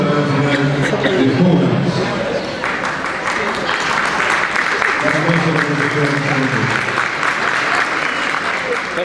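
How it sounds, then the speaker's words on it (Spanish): Audience applause rings out steadily for a woman being thanked at a dog show anniversary event, dense clapping with a murmur of voices carrying through the whole stretch. "Un aplauso para la señora Elisa de Castro"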